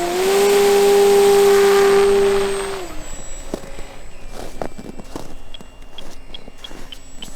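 The electric motor of a 990mm 4S HobbyKing Corsair Lucky Gallon Reno Racer RC plane gives a loud, high, steady whine for about three seconds. It then winds down into quieter clicks and handling noises.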